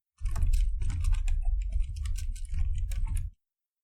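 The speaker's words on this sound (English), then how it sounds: "start typing" Typing on a computer keyboard while entering text into a shape in Microsoft Word, a brisk close run of clicking keystrokes lasting about three seconds, then stopping abruptly, with no talking.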